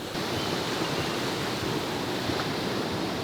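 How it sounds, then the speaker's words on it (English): Ocean surf at a black-sand beach in El Salvador, a continuous loud rushing roar of breaking waves nearby, steady throughout with no voices. "The waves are really coming close to this bit right here"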